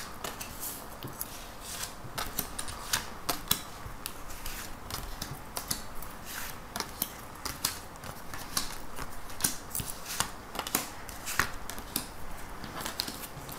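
Tarot cards are shuffled and drawn by hand, with a steady run of soft, close flicks, slaps and papery snaps continuing throughout with no talk.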